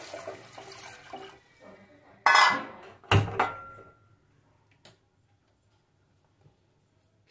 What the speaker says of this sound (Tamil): போட்டு அது முழுகிற அளவுக்கு தண்ணி ஊற்றிக்கிறேன்.